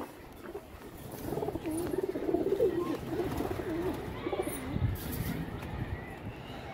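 Big-size pigeons from a fancy-breed flock coo in soft, rolling, repeated calls close by, with faint chirps and light background rustle.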